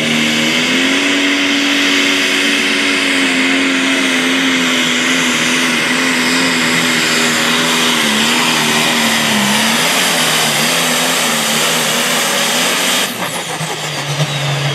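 A John Deere–powered tractor roars loudly and steadily during a prostock tractor pull in Hoogblokland, with a sustained high engine drone and shifting pitch that cuts off sharply near the end.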